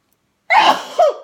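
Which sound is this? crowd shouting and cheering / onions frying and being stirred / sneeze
sneeze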